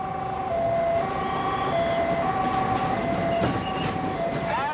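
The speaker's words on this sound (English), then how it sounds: "Both of the last trains pass through the station at the same time." Two trains pass through an Indian railway station at the same time. Long, steady horn tones sound over a constant rumble of moving rail traffic, fairly loud and close, with no speech.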